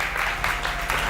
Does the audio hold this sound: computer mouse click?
no